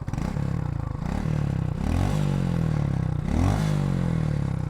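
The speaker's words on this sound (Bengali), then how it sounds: "এইটা হলো আমার বাইকের স্টক একজস্টের সাউন্ড" A stock-exhaust Suzuki Gixxer single-cylinder motorcycle idles with a steady, close thump, then is revved twice in rising, swelling bursts that settle back to idle between them.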